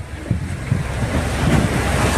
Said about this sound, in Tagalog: Ito po yung karagatan ng Iloilo Province